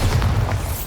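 A Bombarda spell from the Hogwarts Legacy video game goes off as a short, deep boom with a rumbling burst, loud and close.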